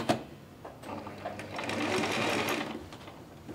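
A sewing machine runs a straight stitch while buttons are sewn onto a summer dress. A faint, quick mechanical whirr builds after a few short taps, then stops, with no talking.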